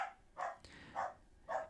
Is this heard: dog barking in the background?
yes